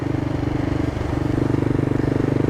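A CCM Flat Tracker motorcycle being ridden on the road, its engine thumping with a steady rhythmic beat close to the microphone, briefly easing then pulling again with a clattery edge.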